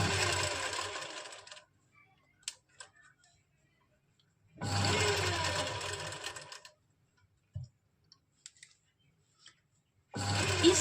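A sewing machine runs long basting stitches along suit lining fabric in three separate bursts, with quiet pauses and small clicks between them.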